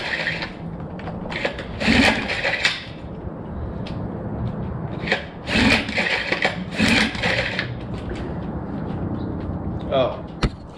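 Repeated pull-starts on a choked Evinrude two-stroke outboard motor running a 50-to-1 fuel mix, several loud rasping cranking bursts spaced seconds apart, none catching into a steady run.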